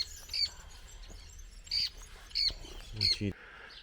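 Several short, high bird calls ring out at intervals outdoors in the Pantanal, Brazil, fairly close, with a low rumble and faint background noise between them.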